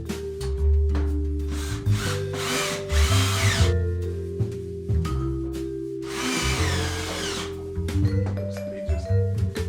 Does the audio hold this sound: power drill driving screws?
yes